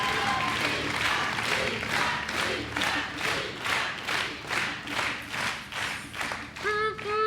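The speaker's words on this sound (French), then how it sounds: "vous applaudissez comme ça" A studio audience on the French TV game show A prendre ou à laisser claps in steady rhythmic unison, loud and sustained, with a voice cutting in near the end.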